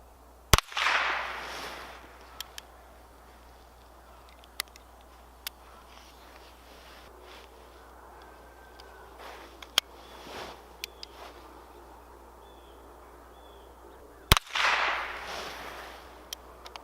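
Chiappa Little Badger compact folding backpack rifle firing three spaced shots at a target about 10 yards away, each a sharp loud crack over a quiet outdoor background with faint small noises between.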